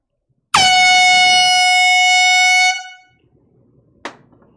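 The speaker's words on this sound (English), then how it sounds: "Here comes an air horn out of nowhere." An air horn blasts once, loud and sustained for about two seconds, then cuts off, followed by a short sharp clack.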